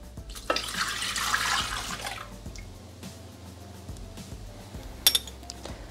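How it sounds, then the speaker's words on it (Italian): Milk pours into a Thermomix mixing bowl as a soft, brief liquid splash lasting about two seconds, followed by quiet clinks and faint handling noises in a kitchen, with no talking. "Iniziamo la ricetta mettendo all'interno del boccale il latte"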